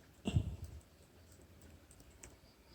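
Computer keyboard typing, a short cluster of clicks while text is entered into a presentation slide box, fairly close and fading into quiet room tone.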